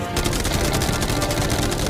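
Rapid machine-gun fire rattles toward a yacht in a staged battle, a dense, loud burst of continuous shots with no talk over it.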